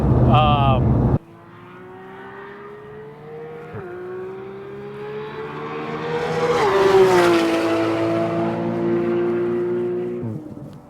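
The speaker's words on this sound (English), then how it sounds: "this is the best sounding 6-cylinder engine" Porsche GT3 RS with a naturally aspirated six-cylinder engine, heard after a moment of talk as a steady drone that climbs into a loud, rising rev before settling back to a smooth, sustained cruise.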